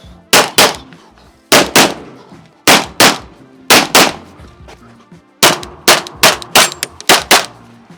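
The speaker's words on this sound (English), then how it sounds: "That's the most I've ever shot a 1911." A 1911 pistol fires a series of sharp, loud gunshots close by, spaced in pairs and singles at first, then a quicker string of rapid shots near the end, with faint ringing between.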